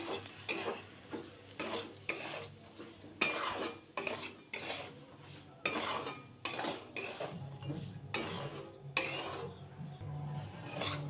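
Roasted semolina mixed with peanuts, cashews and raisins is stirred in a pan, the spoon scraping and clinking against the metal in steady repeated strokes, close and fairly loud, with no talking.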